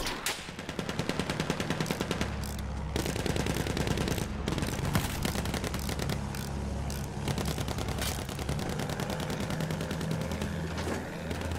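Rapid video game gunfire rattles on throughout, with dense bursts of automatic shots and single cracks over a constant low battle rumble, near and loud, with no talk.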